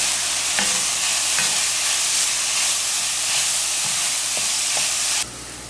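Saltfish and tomatoes cooking in a pot over low-medium heat, a continuous close sizzle and hiss with a few stirring knocks, and a sharp rise in hiss near the end, no voices.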